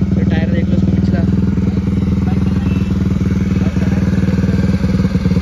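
A modified Bajaj Avenger motorcycle engine runs close and loud with a fast, steady pulsing throb, its rhythm holding evenly with slight variation under occasional talk.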